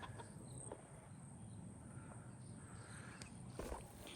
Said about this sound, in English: Here we got our chickens.